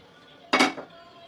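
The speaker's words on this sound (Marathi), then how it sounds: "आता हे बॅटर पूर्ण या प्लेटमध्ये घेऊयात." A spoon scrapes coconut barfi batter out of a pan onto a greased plate, making one short close burst of scraping and clinking against metal, with quiet room tone around it.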